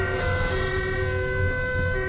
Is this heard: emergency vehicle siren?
yes